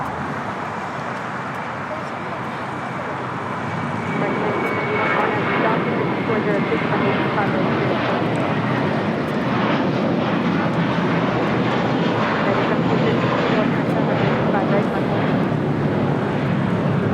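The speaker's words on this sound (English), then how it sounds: "This is JetBlue Airways 2985 taking off to Miami, Florida on an A321." A JetBlue Airways Airbus A321 takes off from LAX bound for Miami, its jet engines swelling into a loud, steady roar after a few seconds and holding at full power to the end.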